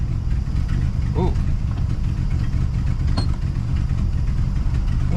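A car engine idles low and steady, a continuous rumble filling the clip with a brief scrape or clunk near the middle, after the transmission was reconnected.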